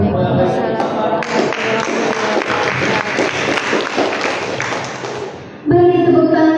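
An audience claps at a journalism seminar, dense sustained applause filling the room for several seconds before fading, then cut off by a loud voice.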